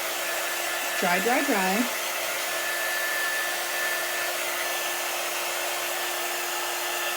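A hair dryer blowing steadily throughout, drying chalk paste on a craft project, loud and close, with a brief humming voice near the start.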